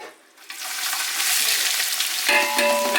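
Sliced onions drop into hot ghee and oil with whole spices and start frying. A near silence breaks into a loud, hissing sizzle that continues steadily, with some stirring and clinking toward the end and no speech.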